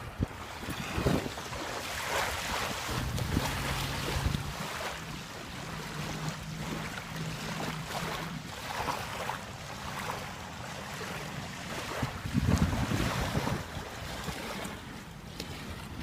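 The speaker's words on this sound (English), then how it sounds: "It is very windy, so I don't know how good the sound quality is on this" Strong wind at a sunny beach buffets the microphone in continuous rumbling gusts, with surf and a low hum faintly beneath, loud and steady throughout.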